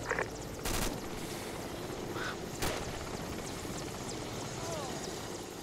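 A military helicopter in ArmA II drones steadily at night, a constant rotor rumble in the background, with a few sharp bursts of gunfire cracking over it.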